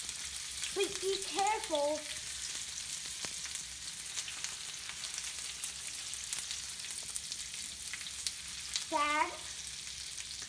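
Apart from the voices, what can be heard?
onions frying and being stirred for fried rice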